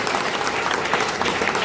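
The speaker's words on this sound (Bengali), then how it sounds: "তার জন্য একটা জোরে হাততালি দিই" Dense, steady applause from an audience on the closing day of an art exhibition, honoring the head of the art school; loud and close, a brief burst with no talk over it.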